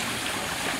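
Water from a mountain top runs down a forest stream with a steady, broadband rushing wash that stays even throughout, close by and unbroken, with no voices.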